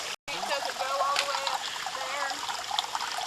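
A small waterfall along a hiking trail splashes and trickles steadily nearby, a soft continuous patter of falling water with a brief dropout near the start.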